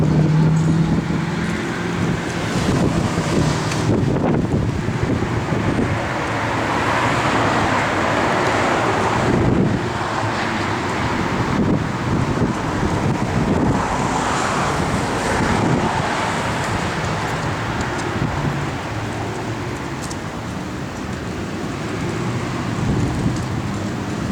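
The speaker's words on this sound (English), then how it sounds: "Wind's whipping around here." Wind gusts around a 1968 Ford Mustang convertible parked outdoors, a loud, steady roar of buffeting air with surging swells and rumbling microphone noise throughout, and no voices.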